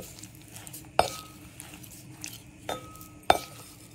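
Seasoned chicken with turmeric stirred in a bowl, a spoon clinking sharply against the rim three times amid soft scraping, close and clear without speech.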